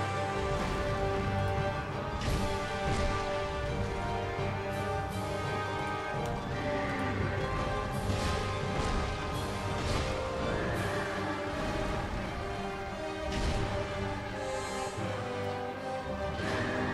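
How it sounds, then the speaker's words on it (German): A horse whinnies in the video game Dark Souls 2, its neigh set within a dense, tonal game soundtrack and ambience that runs steadily throughout. "Das ist ein Pferd"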